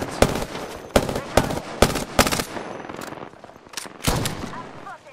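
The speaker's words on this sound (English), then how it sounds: "I'm spotted, taking fire." Video game gunfire rings out as a string of sharp, loud shots in quick bursts, about eight in all, with some fainter pops between them and near the end.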